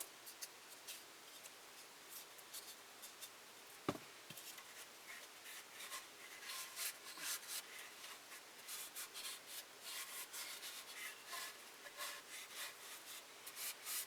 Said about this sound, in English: we want to wipe it down to get all the sawdust and everything off of it